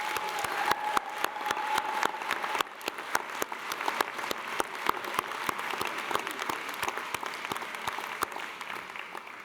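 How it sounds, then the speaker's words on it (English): Steady applause from a large audience at a university graduation ceremony, a continuous wash of clapping with sharper individual claps standing out throughout. "I would like to give a very big clap to our parents and audience and families"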